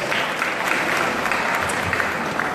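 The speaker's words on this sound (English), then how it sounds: "Give him a round of applause." Steady audience applause fills a pageant hall at the Mister Philippines 2017 bachelors final night, a continuous dense clapping that holds at an even level throughout with no break.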